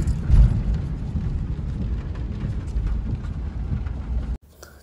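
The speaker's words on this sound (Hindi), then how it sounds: "तो आप चेक कर सकते हैं कि बारिश कितनी तेज़ चल रही है आज" Heavy rain pounds a car driving on the motorway toward Lahore, heard from inside as a dense, continuous patter over low road rumble, then cutting off abruptly near the end.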